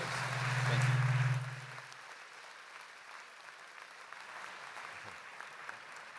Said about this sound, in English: Let's get a round of applause for our speakers.